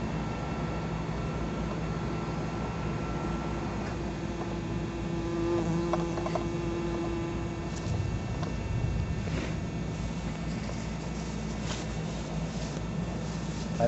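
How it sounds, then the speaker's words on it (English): A bee tied on a string buzzes continuously, a thin droning hum that wavers slightly in pitch and swells a little midway, close and alone against faint outdoor background. "That is a bee on a leash."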